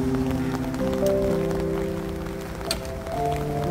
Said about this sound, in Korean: 캠핑장에 비가 많이 옵니다